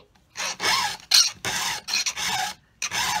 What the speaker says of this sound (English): Lighten up on your file if you want to do those little cleanup strokes too